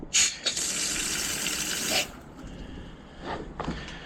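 Water gushes from a tap for a couple of seconds, then shuts off, followed by a few faint knocks and drips.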